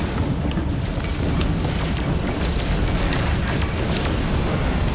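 A pirate ship blows up in the space game No Man's Sky, a loud, sustained roaring rumble of explosion and engine noise filling the whole stretch without pause.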